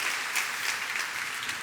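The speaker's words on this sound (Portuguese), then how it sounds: "Pode dar uma salva de palmas sim ao Senhor." A church congregation claps together in a dense, steady burst of applause that fills the room and holds its level throughout.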